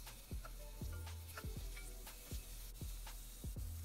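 Onion sweating in hot oil in a saucepan, giving a soft continuous sizzle under repeated dull scraping strokes of a spoon, faint and close.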